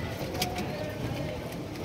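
Pigeons coo in a loft of about forty pairs kept in wooden coops and cages, soft repeated low coos under a steady background hum, with a few brief sharper bird calls.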